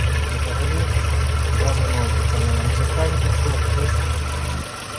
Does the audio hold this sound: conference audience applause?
no